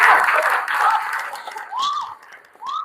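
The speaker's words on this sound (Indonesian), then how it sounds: "Tepuk tangan untuk kelompok 1." Classroom students applaud a discussion group, a short burst of clapping that fades out midway while a voice with rising, sliding tones talks over the tail end.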